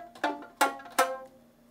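A red rubber band stretched across a homemade box guitar is plucked three times, each twang ringing briefly with a buzzy, pitched tone before fading, soft and close with no talking.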